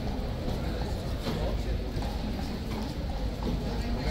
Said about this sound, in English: two other horses came through, excuse me, and went out the front gate